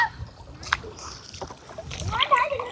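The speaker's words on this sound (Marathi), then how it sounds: "इकडं आपला भाऊ होडी चालवताना राईड करतोय" A small boat is rowed on a creek during a Holi outing, with soft paddle splashes and knocks amid wind, while people talk nearby.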